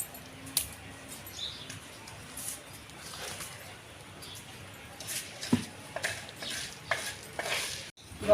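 Red lentils, toor dal and chana dal dry-roasting in a pan, stirred with a spoon that scrapes and rattles the grains in a steady, close, gritty shuffle with a faint sizzle.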